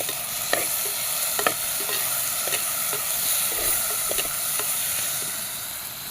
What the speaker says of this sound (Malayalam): ഇതാ ഉള്ളി വഴണ്ടി വന്നിട്ടുണ്ട് തക്കാളി ഇട്ട് കൊടുക്കാം പച്ചമുളക് ഇട്ട് കൊടുക്കാം കറിവേപ്പില ഇട്ട് കൊടുക്കാം